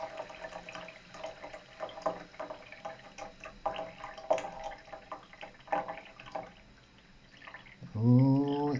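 Water from a leaking toilet cistern keeps running and trickling into the bowl, a faint steady wash of dripping and flowing water with no voices, ending in a brief louder tonal sound.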